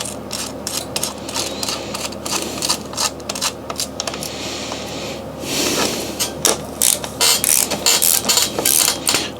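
Bolt being tightened on a carbon Yeti SB5 mountain bike frame during a rebuild, heard as a steady run of close, rapid ratcheting clicks with a brief rougher burst midway, no talk.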